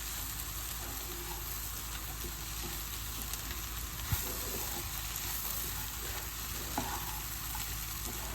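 Oil sizzles softly and steadily while a tempering of peanuts, dried chillies and garlic is stirred. A couple of faint stirring taps break through the quiet, continuous frying.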